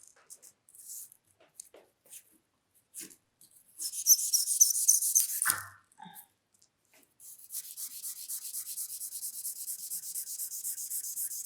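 Charcoal is rubbed over drawing paper to coat it for reductive drawing, giving a dry scratchy scraping that comes in short strokes, then a sustained rubbing passage, and after a pause a steady rhythmic back-and-forth rubbing.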